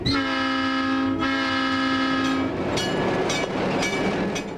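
The Zephyr train gives a long, steady horn blast for about two and a half seconds, then loud rolling rail rumble and clatter carry on alone to the end.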